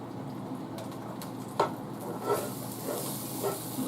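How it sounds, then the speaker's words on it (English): Seasoned pork chops sizzle in hot butter in a pan, a steady low frying hiss with a few soft clinks and bumps standing out now and then. "Now we're going to add the seasoned chops onto the hot butter"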